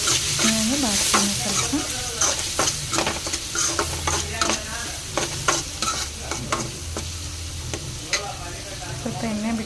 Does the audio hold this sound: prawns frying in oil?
yes